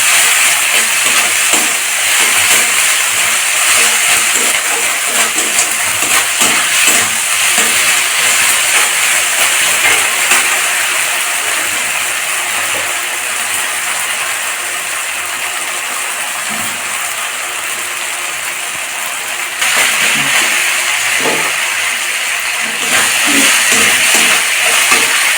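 Ginger paste being stir-fried with fried onions in a pan for a Bengali chicken skin curry, a loud continuous sizzling hiss close by, steady throughout with a brief lull and scraping stirs.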